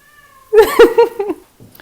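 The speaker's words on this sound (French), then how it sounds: "Je sais pas si vous entendez mon chat miauler." A cat meows loudly several times in quick succession, close by, with a faint hum before and a soft trailing sound after.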